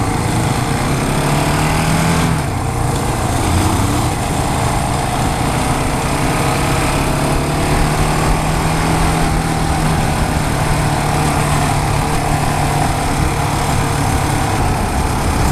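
A 2015 KTM Duke 690 single-cylinder motorcycle engine runs steadily and loud throughout, a constant close-up drone with a low throb and no voices.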